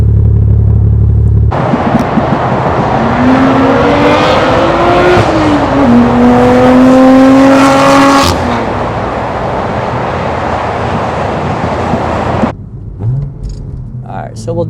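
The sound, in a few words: BMW M4 S55 engine with Active Autowerke exhaust, second gear pull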